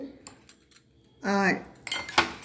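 Four eggs beaten with salt and ground pepper in a bowl give short bursts of clinking and scraping of a utensil against the dish, with one sustained ringing stretch in the middle. The sounds are close, and nobody speaks.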